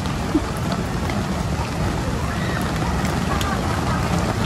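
Steady rain falls in a continuous hiss with soft scattered drops, heard from under shelter at a moderate level without pause.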